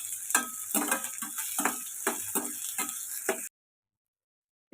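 Onion and garlic sautéing in a pan for a carrot soup, with a series of rhythmic stirring scrapes over a soft sizzle for a few seconds before it abruptly stops.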